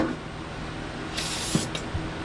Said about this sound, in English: Let's try to spray that block off a little bit